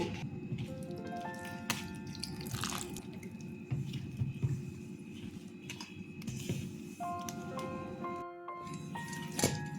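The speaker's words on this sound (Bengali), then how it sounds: "আমি এবার অল্প অল্প করে জল দেবো" Water is added little by little to flour dough for puri, giving soft irregular drips and wet squishing as it is kneaded, with faint tonal background sounds throughout.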